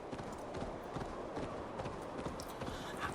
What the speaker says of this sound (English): It's quite nice riding a horse.